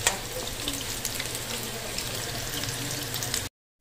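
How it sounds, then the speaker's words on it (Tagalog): Okoy, small shrimp fritters, fry in hot oil with a steady, dense sizzle that crackles continuously at close range before cutting out abruptly near the end. No one speaks. "Luto na yung aking prinito na okoy. Hipon na maliliit mga kaibigan."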